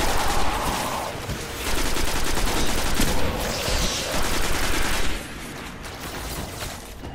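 Continuous automatic gunfire in the PS3 game Destiny while shooting reavers, a dense, loud rattling stream of shots with little break, shifting slightly in intensity throughout.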